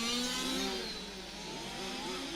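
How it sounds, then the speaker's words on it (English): A small RC touring car engine whines and strains at a distance during a race, its pitch wavering up and down as it labors, fairly faint against background noise. "You can really start to hear the engine struggling there"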